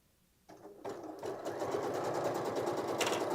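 A sewing machine runs padding stitches, starting with a few hesitant bursts before settling into a steady, fast mechanical whir and rapid needle chatter, close and continuous with no talking.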